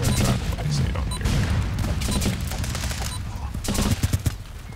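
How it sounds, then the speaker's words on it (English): Rifle and automatic-weapon fire in the video game Running with Rifles, version 0.91, with dense, loud, overlapping bursts throughout and sharper individual shots near the end. "It's got new shooting sound"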